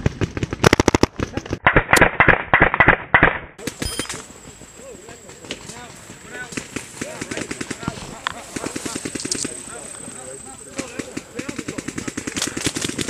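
Rapid bursts of airsoft gunfire crackle during a field game at a large outdoor event, with dense clusters of sharp pops near the start and scattered shots continuing behind low, steady speech.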